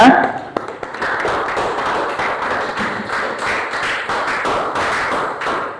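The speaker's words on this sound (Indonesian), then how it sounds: "tepuk tangan buat kita semuanya" A class of pupils clapping together in a room, a steady patter of many hands at moderate loudness with a few sharper taps, continuing without pause and with no voices over it.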